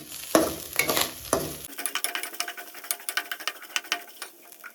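Raisins dropped into a hot oiled pan while cooking curd rice: a brief loud clatter and sizzle at first, then a steady crackling fry with light stirring scrapes, close and fairly quiet.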